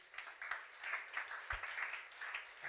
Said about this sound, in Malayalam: നിങ്ങൾ പണിക്കരച്ചാൻ ഒരു ക്ലാപ്പ് ഒന്ന് കൊടുത്തേ.